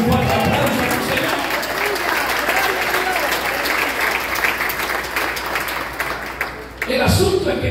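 A church congregation breaks into loud, sustained applause during a sermon, a dense clatter of many hands clapping that fills the room for several seconds before briefly dipping and surging again at the end.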